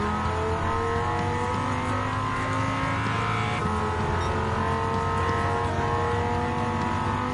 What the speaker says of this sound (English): Gonna let the Audi TT Cup car pass.